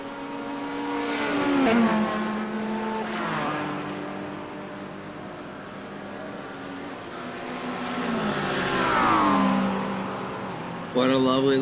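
A train of race cars passes slower GT4 traffic at Sebring in the sim racing game iRacing. Several engines rise and fall in pitch as the cars rev and sweep by, and a commentator talks over the engine noise.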